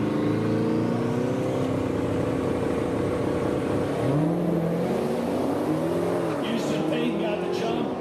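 A Hellcat drag car launches down the strip alongside a rival at a cash-days event, its engine roaring loud and steady with rising revs, crowd and announcer voices mixed underneath.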